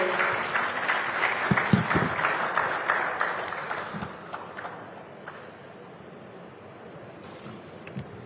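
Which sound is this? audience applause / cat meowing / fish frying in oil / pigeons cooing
audience applause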